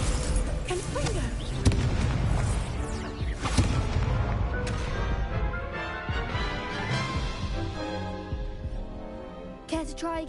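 Confringo fire-spell blasts in the video game Hogwarts Legacy, a dense run of booming explosions and crackling bursts layered over game music and combat effects, loud and continuous with a few sharper hits.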